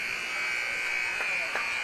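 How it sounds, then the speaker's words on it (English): A high school boys basketball game buzzer blares, a steady, piercing electronic tone held the whole time over faint gym background noise. "Rebound by Adams as the buzzer sounds"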